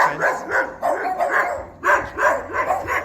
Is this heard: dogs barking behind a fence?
yes